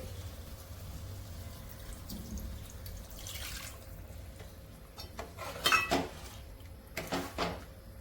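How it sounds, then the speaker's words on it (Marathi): Water poured into fish curry in a pan, with splashing bursts and drips, faint kitchen clatter, and a low background hum, no speech. "मिक्स करते आणि याच्यामध्ये पाणी ऍड करते"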